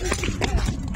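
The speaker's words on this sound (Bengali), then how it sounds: "গরু ছুটে গেছে, ধরে দিমু ধরে দিমু" An escaped cow runs loose at a cattle market, its hooves clattering in quick, close beats over a busy background with voices nearby.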